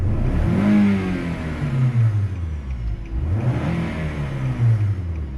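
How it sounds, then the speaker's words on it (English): A Nissan car engine revs twice, each rise sweeping up then sliding back down, loud and close with no talking. "Let's see if we could actually rev it up some,"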